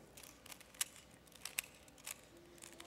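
Soft plastic clicks and turns, a few sharper snaps among quieter rattling, close up and faint over low background noise.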